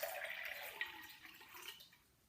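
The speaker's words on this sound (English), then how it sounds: "I can pour the water from this glass into the other glass" Water poured from one glass into another, a close splashing, trickling pour that gradually thins and fades toward the end.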